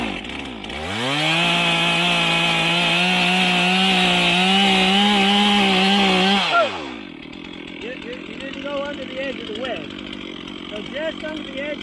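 A chainsaw felling a tree along a forest road revs up and cuts at a loud, steady pitch for about five seconds, then winds down and stops. Quieter outdoor sounds and voices follow.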